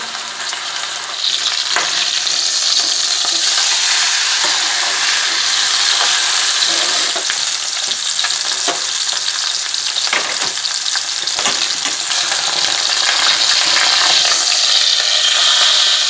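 A pork shoulder roast sears in a frying pan with a loud, close, continuous sizzle and scattered crackles and spits, with no one talking.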